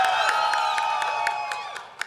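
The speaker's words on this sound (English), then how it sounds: "give us a cheer now for IDW" A panel audience at a Sonic the Hedgehog gaming event cheers loudly, a dense wash of whoops and shouts with scattered claps that fades slightly over two seconds.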